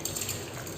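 Water pouring into a cooking pot of drumstick soup seasoned with turmeric and rock salt, a steady close splashing gush that runs on without a break.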